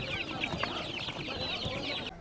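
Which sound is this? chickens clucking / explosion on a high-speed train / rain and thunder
chickens clucking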